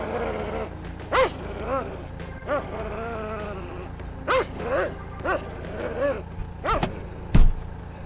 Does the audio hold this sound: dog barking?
yes